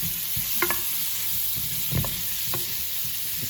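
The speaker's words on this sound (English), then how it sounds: "Now we've got our bacon frying up nicely." Bacon and garlic frying in a pan on a cooker for carbonara, a steady soft sizzle with a few clinks of stirring spaced through it, close and moderately quiet.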